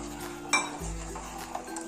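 A spoon stirs kheer in a cooking pot, giving one sharp metallic clink followed by soft scraping swirls, close and fairly quiet over a steady low background hum.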